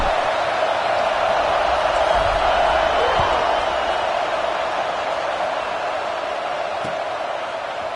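A stadium crowd in EA Sports College Football roars in a constant loud wash of noise, with no break or swell across the stretch.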